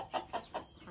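A hen in a simple backyard chicken coop gives three quick, evenly spaced clucks, close and moderately loud over faint background noise.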